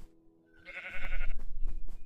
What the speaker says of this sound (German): Rote Schaf.